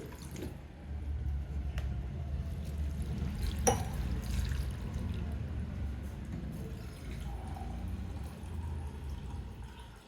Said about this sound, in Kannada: ಇವಾಗ ಒಂದು ಮೂರು ಲೋಟ ನೀರು ಸೇರಿಸಿ